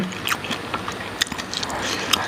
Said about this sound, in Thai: เคี้ยวไปคือแบบเนื้อกุ้งเต็มๆนะครับ